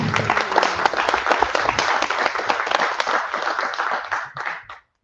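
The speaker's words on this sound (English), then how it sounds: "Another round of applause for Duke." Audience applause after a speech at an AI industry summit session, a dense burst of many clapping hands that holds steady for several seconds, then thins and fades out.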